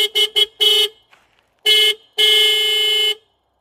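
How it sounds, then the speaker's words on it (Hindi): A dual horn fitted to a Suzuki Burgman scooter honks loud and close: four quick toots, then a short blast and a longer held one, with silence between. "मतलब दो साउंड दो हॉर्न बज रहे हैं, ये वाला साउंड आ रहा है"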